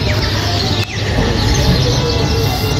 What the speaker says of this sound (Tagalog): Maraming ibon dito